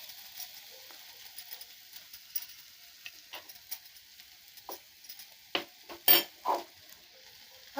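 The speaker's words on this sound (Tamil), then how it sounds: "இதில் நம்ம இப்போ உருளைக்கிழங்கு போட்டுக்கலாங்க" Potato pieces drop into a pan of sautéed tomato and onion masala: a faint low sizzle with scattered light clinks, then a few louder, close thuds and scrapes toward the end, no talking.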